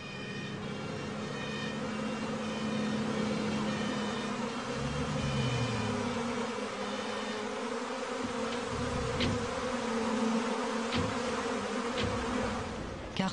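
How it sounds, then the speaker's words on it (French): A disoriented swarm of bees buzzes steadily and close, a dense droning hum with individual insects passing nearer at moments. "Car ce sont bien les abeilles, complètement désorientées, qui aujourd'hui ont besoin d'aide."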